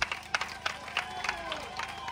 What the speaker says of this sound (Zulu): cela sibashayeleni ihlombe labazali